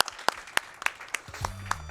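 A few scattered, quiet claps ring out in a loose, uneven rhythm during a Grand Theft Auto: San Andreas speedrun event, with a brief low voice near the end.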